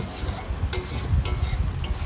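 Dhoka curry is stirred in a pan, with several sharp scraping strokes over a steady, close sizzle.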